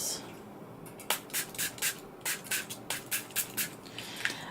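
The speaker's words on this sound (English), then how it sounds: "take water spray just to activate this" A water spray bottle spritzing paint on a craft mat: a quick series of about a dozen short, crisp hissing pumps in an uneven rhythm, close and fairly quiet, with no talk.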